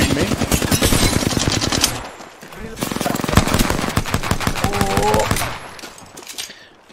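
Rapid automatic gunfire in the battle-royale shooter Apex Legends, Arenas mode, bursts of loud close shots with brief pauses, overlapped by excited player voices.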